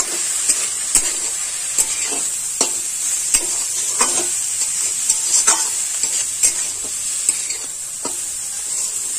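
Khesari greens being stirred in a hot pan with crushed bori (dried lentil dumplings), a steady sizzle broken by repeated scraping strokes of the spoon throughout.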